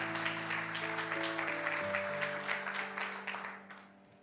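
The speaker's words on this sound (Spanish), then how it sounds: "Denle un aplauso bien fuerte." Loud, dense applause from a church congregation, steady for several seconds before tapering off, with sustained music tones underneath.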